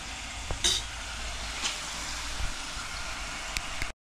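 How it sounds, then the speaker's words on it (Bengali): Coriander, cumin and chilli spices fried and stirred in oil in a pan for a lentil and bottle gourd dish, giving a steady close sizzle with a few sharp utensil scrapes and taps, no talking. "একটু মশলাটা কষিয়ে নিলাম"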